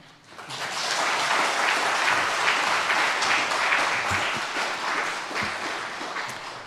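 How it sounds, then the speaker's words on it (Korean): Applause from a church congregation welcoming a preacher to the pulpit at a Sunday morning worship service, a dense, steady wash of many hands that swells in quickly and holds loud for several seconds. "하나님 앞에 영광의 박수로 환영하겠습니다."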